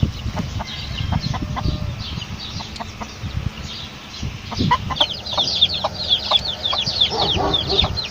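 Crested-breed chickens and their chicks on a farm: close, busy clucking from the hens mixed with rapid high peeping from the chicks, which grows denser and louder in the second half.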